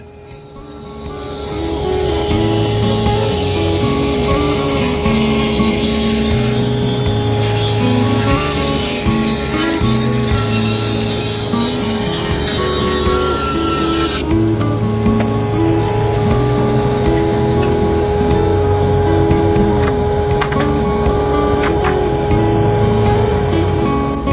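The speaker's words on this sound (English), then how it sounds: "I'll push this board through the bandsaw with a resaw blade and end up with 2 pieces of wood." A bandsaw fitted with a resaw blade slices a wooden board lengthwise into two pieces, a loud, steady mechanical drone and whine that holds evenly throughout with the cutting noise layered over the motor hum.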